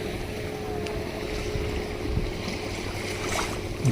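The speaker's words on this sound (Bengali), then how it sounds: "দ্রুতগামী একাখানা বোট দ্রুত গতিতে কখনো ডান দিকে কখনো বাঁ দিকে প্রচণ্ড বেগে ছুটে যাচ্ছে" A speedboat racing across open sea near mangrove forest off Havelock, giving a steady, loud engine drone mixed with rushing water and buffeting wind noise throughout.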